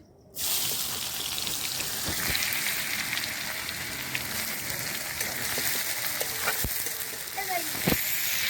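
Chopped onion hits hot oil for aloo dum and a close, continuous frying sizzle starts at once, holding steady with light crackles and occasional pops.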